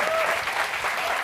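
Audience applause at a talk event, a dense, steady burst of clapping from a crowd, fairly loud and continuous for a moment with no voices over it.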